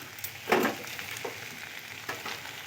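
Spring onion leaves drop one by one into a pan of frying eggplant and potatoes, bringing a soft background sizzle punctuated by two short, sharper hisses.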